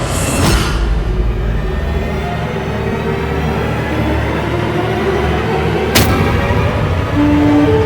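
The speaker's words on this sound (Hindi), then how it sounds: "ये विस्फोट मेरे पुत्र गणेश कार्तिक के सुरक्षित तो है ना?" A loud, dull boom rolls out at the start over a constant low rumble, followed by a sharp blast a few seconds later.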